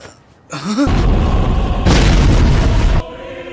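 A loud, deep explosion boom from the Attack on Titan anime bursts out after a short rising tone and holds for about two and a half seconds before cutting off.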